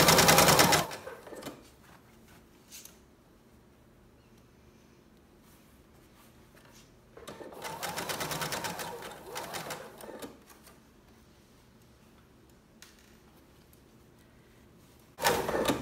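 Sewing machine stitches the seam of a lined baby romper in two bursts, a quick rattling hum near the start and a longer run of several seconds midway, separated by near silence, with a brief start again at the end.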